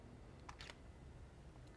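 A quiet, quick tethered camera shutter clicks twice in close succession against a low room hum.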